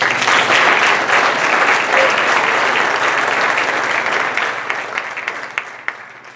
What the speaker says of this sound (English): Let's start by giving these girls a round of applause.